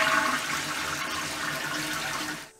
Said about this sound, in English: when you flush the toilet, clean water comes out here for you to wash your hands with